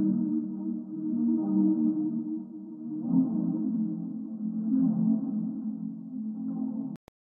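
A Mellotron sample, pitched down an octave and treated with chorus and saturation, gives a watery, R&B-style low pad. It swells and sustains steadily for several seconds, then cuts off with a brief click.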